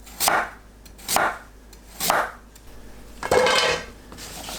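Carrots cut with a knife into thick rounds on a board: four distinct slicing strokes at a roughly even pace, each a crisp cut ending in a thud, the last one longer, with no talking.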